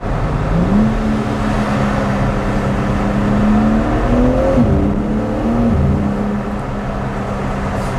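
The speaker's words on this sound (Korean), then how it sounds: "아 배기도 우렁차다." The exhaust of a new BMW M3 roars from inside the car while driving, a loud, steady engine drone that climbs and settles in pitch as it shifts through the revs.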